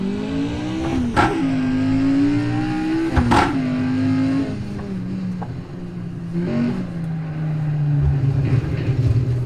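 A race car engine in the Assetto Corsa driving game revs up and down repeatedly, with sharp bursts of throttle, falling pitch between them and a closing stretch of lower steady engine noise, loud and without talk.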